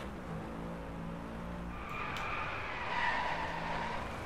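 Car sliding under a yanked handbrake in the racing game DriveClub on a winding Chilean road, a steady engine drone giving way to a rising tire screech that swells near the end.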